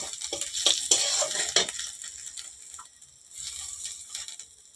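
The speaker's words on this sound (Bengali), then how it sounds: "এই একই তেলে আমি ফোড়নে দিয়ে দেবো গোটা তেজপাতা গোটা লঙ্কা আর গোটা গরম মশলা" Whole bay leaf, dried chillies and garam masala temper in hot oil for a chicken dish, with crackling spatters and metal spoon clinks against the pan that come in bursts and then ease to a quieter sizzle.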